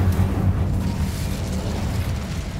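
A fire spell, Incendio, cast in Hogwarts Legacy down in the catacombs, producing a loud, sustained low roaring burst that rumbles steadily for a few seconds with no voices over it.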